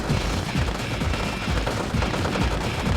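Infantry soldiers firing at a tank in the video game Red Alert 2, a continuous dense rattle of overlapping machine-gun bursts, steady and close for the whole stretch.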